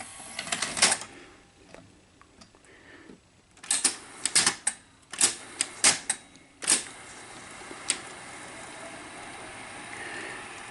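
Sony SL-8200 Betamax recorder, dusty inside, loading a tape: a series of sharp mechanical clicks, clunks and whirs in uneven bursts, close and fairly loud, with quiet gaps between.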